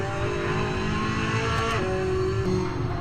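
Racing car engine in the VR racing game Assetto Corsa, a continuous loud drone with pitch shifting as the car accelerates and shifts gears, with no talking.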